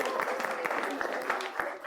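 A game-show studio audience and panel give a burst of applause for the contestants after the scores are read, dense steady clapping filling the space with a few individual claps standing out.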